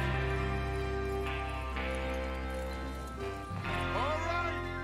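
Horses trot in Red Dead Redemption 2, steady clip-clop hoofbeats over a droning musical bed, with voices talking over them.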